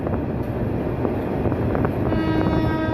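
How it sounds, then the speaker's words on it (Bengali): A train rolling through a curve in a narrow lane near Sayedabad, Dhaka, heard as a steady, loud rumble of wheels and wagons with faint tonal squeal rising toward the end, continuous throughout without talk. "ট্রেনটি আরও একটি বাঁক নিচ্ছে"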